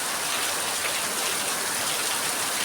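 Heavy rain falls on a rainy morning, a loud, dense, unbroken hiss of drops with no voices over it.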